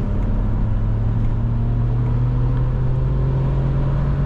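A 2006 Alfa Romeo Brera 3.2 JTS Q4 with a 260 hp engine accelerates hard on an unrestricted German autobahn, a loud, steady engine drone rising gradually in pitch as it pulls through the gear, heard from inside the cabin with no talking.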